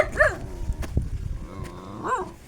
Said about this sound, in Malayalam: പട്ടി ഒക്കെ ഇങ്ങനെ